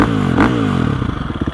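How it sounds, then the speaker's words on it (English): A 2021 Gasgas EX 350F dirt bike's 350 four-stroke engine running close up, a loud throbbing idle with a short rev blip early on, then settling into a rapid, even thumping pulse. "It sounds pretty good, this 350 engine."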